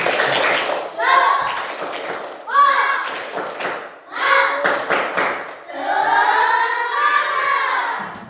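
Students in a classroom perform a rhythmic spirit clap, bursts of patterned claps and thumps mixed with children's chanting voices, fairly close and loud.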